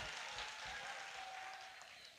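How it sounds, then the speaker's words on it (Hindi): Dense, crackling applause from a crowd at a mushaira poetry recital, steady throughout and fading slightly toward the end. "तालियां जरा एक बार बजा दीजिए"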